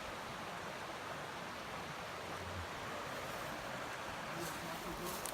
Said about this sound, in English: we're right next to this creek